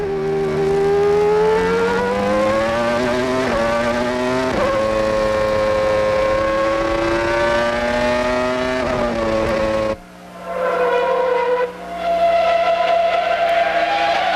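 A Formula One race car at the 1995 Spanish Grand Prix screams close by at high revs, its tone climbing through gear changes before a sharp cut and a fresh surge, loud with no talk over it.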